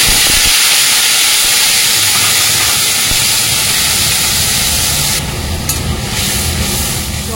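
A blended paste of tomato, onion, ginger, garlic, cumin and dried chilli hits hot oil with a loud, steady hiss and sizzle that holds for several seconds before easing slightly near the end.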